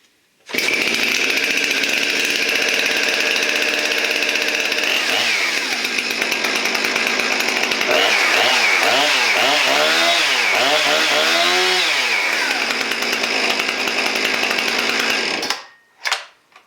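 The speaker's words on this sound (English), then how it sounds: "That's how this saw has always started up." A Husqvarna 455 Rancher chainsaw, pulled on choke after a week unused, fires and runs loudly near at hand, holding a steady high idle then revving up and down in several surges before cutting off abruptly.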